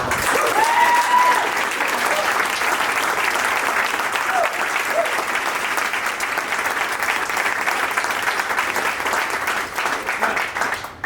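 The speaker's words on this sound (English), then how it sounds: "So another round of applause." A room full of people at a corporate award presentation applauds steadily for about eleven seconds, a continuous even roar of clapping that holds level before tapering slightly at the end.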